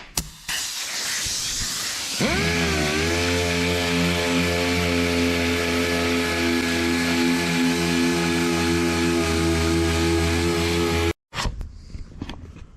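A power sander with 120-grit paper works over a truck body in a shop, a loud, close, steady motor whine that spins up after a couple of seconds, holds evenly, then cuts off abruptly near the end.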